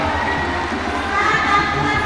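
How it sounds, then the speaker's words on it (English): Crowd cheering at a climbing World Cup lead final in Inzai, Japan, a dense sustained roar of spectators with shouts rising slightly toward the end. "The audience is going crazy around here."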